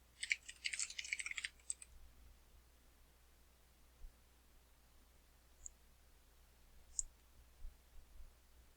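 Brief burst of typing on a computer keyboard, a quick flurry of close clicks lasting under two seconds, followed by near silence with a few isolated faint clicks.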